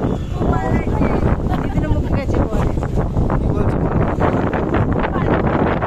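Strong wind blows outdoors at night, a loud continuous rush buffeting close to the microphone, with people talking over it.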